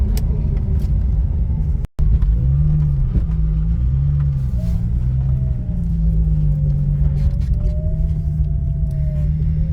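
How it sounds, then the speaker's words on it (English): A turbocharged Holden VL car rumbles heavily from inside, with a deep engine drone that swells and wavers as it builds for a trans brake launch, then settles into a steady, loud cabin roar. "So quick little trans brake launch."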